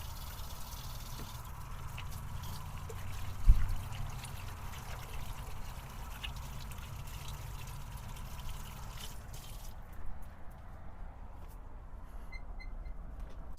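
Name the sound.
water running while washing hands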